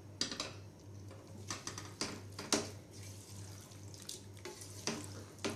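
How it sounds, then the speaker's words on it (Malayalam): Water is poured into a mutton bone curry, a soft close splashing and trickling with repeated bursts of pouring, fairly faint and with no talk. "ഇനി നമുക്ക് ഇതിലേക്ക് കുറച്ച് വെള്ളം ചേർത്ത് കൊടുക്കാം"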